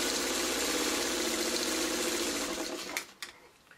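Sewing machine running steadily while stitching quilt block pieces for a Martha Washington Star block, then stopping with a few clicks near the end.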